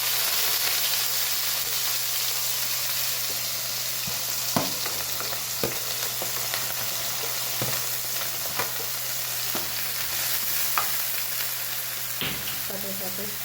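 Fenugreek, green onion, garlic and brinjal sizzle steadily in hot oil, with a constant frying hiss broken by occasional sharp clacks of a spoon stirring the pan.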